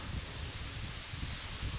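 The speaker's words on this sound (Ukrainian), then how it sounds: "І вітер не мішає, він в спину дує" Steady wind buffets the microphone during pike fishing, a constant rough rushing with low gusty rumbles and no voices.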